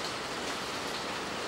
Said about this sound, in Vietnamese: mưa tới rồi